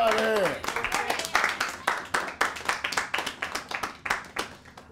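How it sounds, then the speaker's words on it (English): A group claps for a child at a birthday celebration, a voice briefly at the start, then steady rhythmic hand claps from several people close by that gradually thin out. "Clap it up one time for Zion. Zion, stand up. Everybody give Zion a hand"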